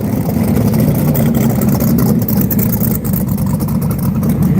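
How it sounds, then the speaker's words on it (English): Twin-turbo Nissan GTR making a drag racing run at a drag strip during Sick Week in Gainesville, Florida, a loud continuous engine roar, steady and close throughout, with no talking. "Twin turbo GTR runs 778 at 183"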